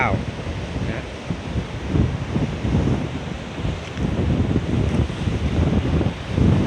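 Strong gusty wind buffets the microphone while waves roll and crash at the pier for Ko Phithak, Lang Suan, Chumphon, Thailand, a loud, continuous roar with surging swells.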